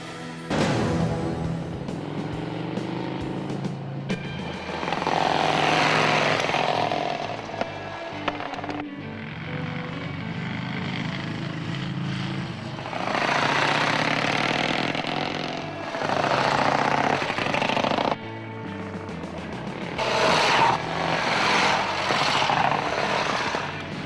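A Vincent Black Shadow motorcycle, ridden by Sammy, roars past in action, its engine rising and falling in loud surges with a brief drop in the middle and a sharp cut near the end.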